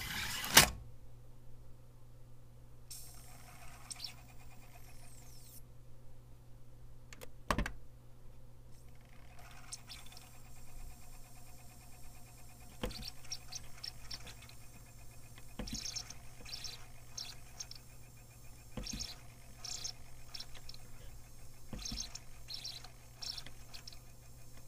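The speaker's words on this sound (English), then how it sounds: "I want you to hear all this little gurgling, twittering sounds that it makes as it's reading the disc" A 1980s Symphonic CD player reading a disc makes faint, sparse ticking, chirping and twittering mechanical sounds over a low steady hum, with a few sharper clicks, close and quiet.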